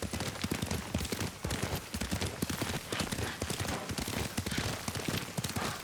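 A horse gallops through the game Ghost of Tsushima, with dense, rapid hoofbeats running steadily and loudly throughout.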